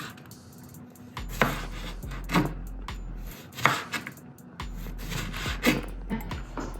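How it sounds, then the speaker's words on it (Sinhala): A knife chops large tomatoes into rounds on a board, about five distinct cuts spaced roughly a second apart, each a crisp close thud against a low steady hum. "තක්කාලි රවුන්ඩ් කපා ගන්න"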